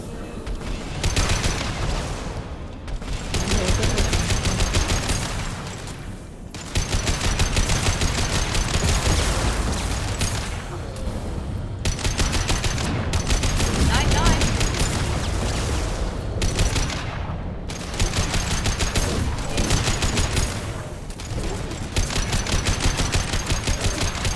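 Heavy weapons gunfire rattles in Mass Effect 2, dense sustained automatic bursts and fusillades broken by short pauses, loud and continuous across the whole stretch.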